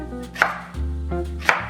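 A knife chopping vegetables into cubes on a board, with three distinct sharp chops spaced unevenly over a couple of seconds, close and clear with no talking.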